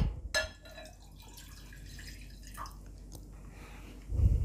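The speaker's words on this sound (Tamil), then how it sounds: "இப்போ ஒரு கப் பால் ஊற்றிக்கிறேன்" A cup of milk poured into a bowl while making cheese cream for kunafa, a short, close splash followed by faint dribbling and drips in a quiet kitchen.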